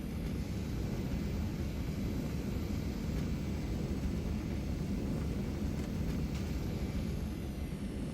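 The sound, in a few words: Saab Viggen thrust reverser in DCS flight simulator video game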